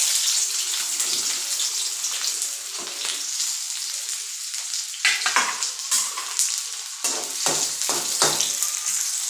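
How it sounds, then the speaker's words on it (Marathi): Chopped onion, tomato, coconut, garlic, ginger, roasted dal and coriander fry in a pan with a steady, loud sizzle and hiss, broken by sharper crackles and stirring scrapes toward the end. "आता आपण हे पूर्ण तळून घेऊया"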